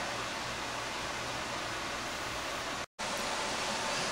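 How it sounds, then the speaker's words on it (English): Water boils in a pan for slow rust bluing of metal, a dense, steady broadband hiss and rumble that carries on without pause apart from one brief cut, with no talking. "And just let it boil away."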